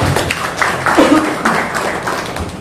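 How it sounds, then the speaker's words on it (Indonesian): An audience applauds at a university ceremony presenting electrical engineering competency certificates: steady, noisy clapping from a crowd lasting a few seconds, with a voice briefly audible in the mix. "Mungkin beri aplaus dulu untuk Pak Seno."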